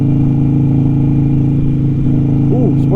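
A sport bike motorcycle rides close alongside, its steady engine drone loud and continuous, with a faint rising pitch sweep near the end as it passes.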